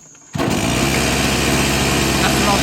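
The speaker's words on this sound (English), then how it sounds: "Let's see if she cranks up." A Rovan XLT RC car's gas engine cranks up after a brief quiet moment and then runs steadily with a loud, high, buzzing whine close by.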